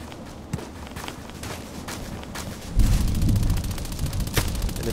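Automatic fire from a Colt IAR machine gun in the Contract Wars shooter game, a sustained rattling burst starting midway and continuing loudly, preceded by softer scattered game sounds and footsteps.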